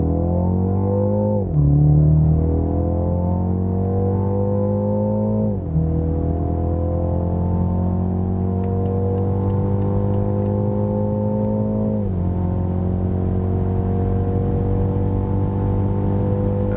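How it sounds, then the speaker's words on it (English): A BMW X2 M35i four-cylinder accelerates hard on the Autobahn, its engine drone rising steadily through long gears with brief dips at each upshift, loud and close from inside the cabin, with no talk. "So wow, that was some pretty decent acceleration."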